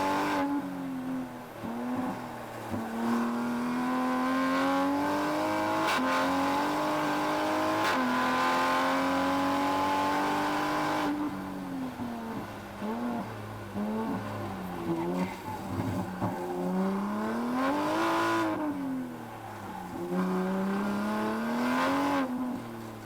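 A Toyota Supra race car on a time attack lap in mixed wet and dry conditions revs hard, the engine note rising and falling repeatedly through gear changes and corners, loud and close, with a voice talking over it at times.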